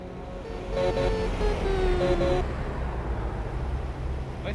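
A truck horn honks in American Truck Simulator multiplayer, several short toots followed by a longer blast, moderately loud over steady road and engine rumble.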